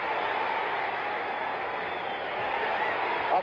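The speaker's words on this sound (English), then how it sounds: "And the crowd knows it. They're reacting." A boxing arena crowd roars steadily through Muhammad Ali's big round against Ron Lyle, a dense, continuous wall of cheering that stays loud and even without letup.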